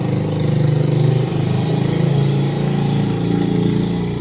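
A motorbike engine idles steadily close by in Uluwatu, Bali, a continuous low putter with a slight waver in level and no talking.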